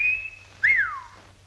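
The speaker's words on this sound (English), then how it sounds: "the emission of a whistling sound, vulgarly known as the call of the wolf, perpetrated by puckering the lips and expelling the sound thusly" A wolf whistle is made with puckered lips: a high sustained note, then a rising and falling swoop, loud and close with nothing else around it.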